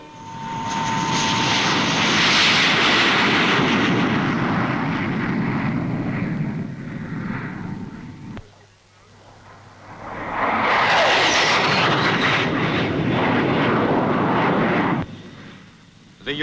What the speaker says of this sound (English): Now showing its paces is the Supermarine 510.